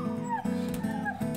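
A puppy whimpers during a dog training session, giving high, thin whines in two or three short bursts, close and clear.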